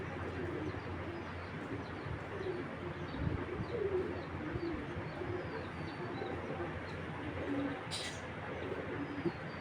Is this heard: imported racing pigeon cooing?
yes